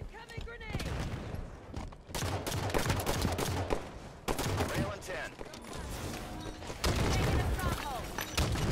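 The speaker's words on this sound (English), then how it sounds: "Incoming grenade." Halo 5 multiplayer gameplay: a grenade blast and sustained rapid gunfire, dense and loud, with bursts of shots throughout and voices talking over the action.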